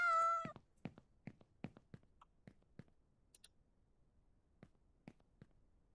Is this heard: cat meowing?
yes